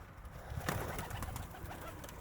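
Polish owl pigeons coo softly nearby, low murmuring calls over faint outdoor background noise.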